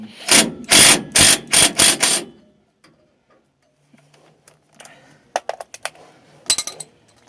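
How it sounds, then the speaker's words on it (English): Impact driver with a socket on the rear brake bolts of a 2007 Ford F150, firing in a loud rapid burst of about five hammering pulses, then a pause and scattered lighter metallic clicks and rattles. "What I'm going to do to speed up the process is use my impact driver with a socket."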